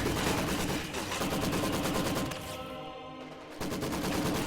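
Rapid gunfire and a grenade blast fill a competitive match of a World War era multiplayer shooter with Maxim machine guns, dense continuous volleys loud throughout, briefly thinning before resuming at full intensity.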